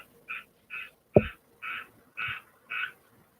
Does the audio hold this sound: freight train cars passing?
no